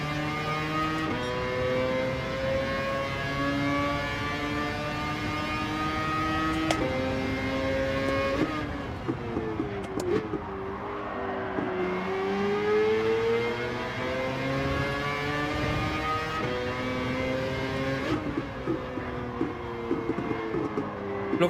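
A Lexus LFA racing in Gran Turismo 7, its high-pitched engine howling steadily, then dropping and rising again through gear changes and revs, with no voices.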